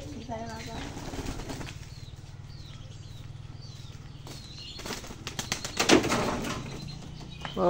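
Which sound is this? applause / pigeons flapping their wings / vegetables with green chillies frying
pigeons flapping their wings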